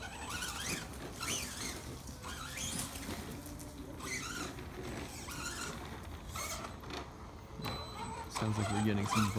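A $80 brushless 2WD 1/10 RC monster truck runs with its body rubbing against the tires, a busy whirring and scraping mix of motor whine and rasping contact with short bursts and pauses.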